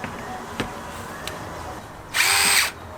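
A single short burst of a power drill whirring for about half a second, near and fairly loud, after a few faint knocks.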